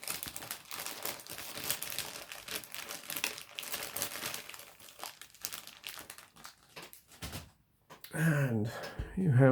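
A plastic bag holding a plastic model kit for a Porsche Tiger tank is opened and handled, crinkling steadily and close for several seconds before a brief pause and a voice.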